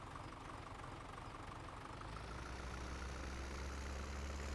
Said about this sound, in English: Gotta start the engine.